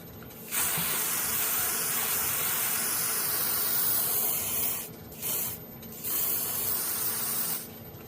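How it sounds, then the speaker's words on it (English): Spray paint hissing from an aerosol can onto a wooden feather box turning slowly on a lathe, a long steady spray followed by several short bursts, close and loud. "I don't want it to run, so I'm not going to spray it on really thick."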